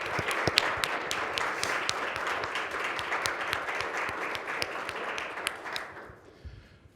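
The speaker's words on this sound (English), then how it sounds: "So let's give them a nice round of applause." Audience applause at an optometry college white coat ceremony, a dense steady wash of many hands clapping from a large crowd that carries on for about six seconds and then thins out and fades away.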